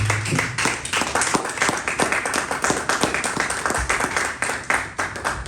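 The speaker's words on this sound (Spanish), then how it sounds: "Vamos a darle una ofrenda de palmas fuerte al Señor" A church congregation claps loudly and steadily as an offering of praise to the Lord, a sustained wash of many hands with no voices heard above it.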